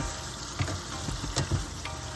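Pieces of pepper chicken sizzle and fry in a pan while being stirred, a steady close crackle broken by a few soft scraping clunks of the spoon.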